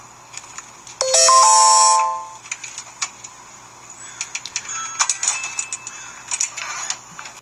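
A Ring video doorbell sounds a bright electronic chime lasting about a second, loud and close, then scattered light clicks and tapping follow.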